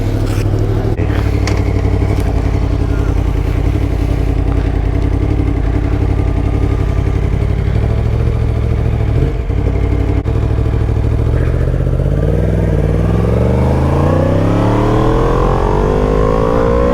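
A Yamaha MT10 motorcycle fitted with an Akrapovic exhaust rumbles loudly and steadily while being ridden on an evening road, with a rising engine pitch toward the end and no voices.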